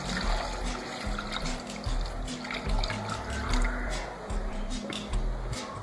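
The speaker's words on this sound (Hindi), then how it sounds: "3 से 4 कप पानी ऐड कर रही हूँ मैं इसमें।" Water poured steadily into a cooking pot of mutton for mutton kunna, a continuous trickling splash heard close up, with faint background noise throughout.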